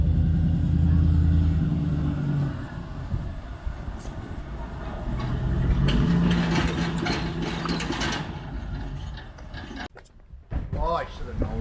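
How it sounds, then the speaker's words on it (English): A Chevy LS V8 swapped into a Dodge truck with angled-up exhaust idles with a deep, throbbing rumble that swells and fades, while people talk nearby and the engine sound drops away toward the end. "does it sound like a Chevy with angled up Dodge exhaust on it?"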